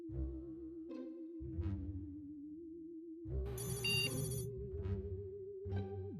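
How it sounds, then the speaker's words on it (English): A phone ringtone for an incoming call sounds during a live gaming stream of 60 Parsecs. A bright electronic ring bursts out over a steady tone and low game music, with no talk. "I'm getting a phone call."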